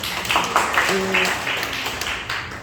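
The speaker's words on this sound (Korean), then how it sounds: "박수 한번 주세요." A classroom of students claps at the end of a lesson, a dense patter of hands that stays steady throughout, with voices chattering underneath.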